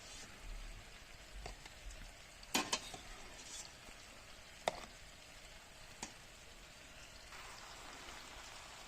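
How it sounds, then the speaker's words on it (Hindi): Fish tikkas fry in a pan with a faint, quiet sizzle broken by a few sharp clatters and utensil taps, no one speaking. "फ़िश टिक्कास, वो उनको फ्राई होने का अमल शुरू हो गया।"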